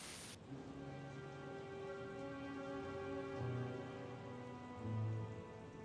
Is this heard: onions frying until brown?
no